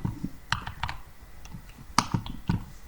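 Irregular clicks of keys being typed on a computer keyboard, close and crisp, with short pauses between bursts.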